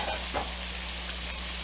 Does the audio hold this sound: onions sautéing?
yes